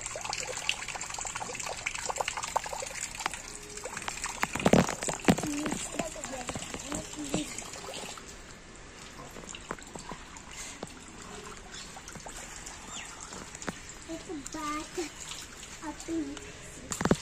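Water pouring and splashing during a child's bath, trickling and gushing at close range in uneven bursts, with voices talking over much of it.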